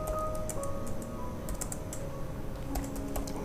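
Steady, close keyboard typing of JavaScript code, with rapid irregular key clacks running throughout over a constant background hum and no speech.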